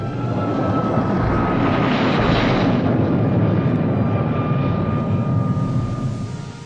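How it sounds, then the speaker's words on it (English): Concorde jet engines roaring loudly and continuously, a broad heavy rumble with a faint steady whine, swelling slightly in the middle, with no talk. "a concert based on the sound of the Concorde jet's engines"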